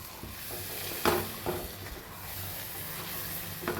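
Egg curry is stirred in a pan over a soft sizzle, with a few distinct spoon scrapes at irregular intervals and no talking.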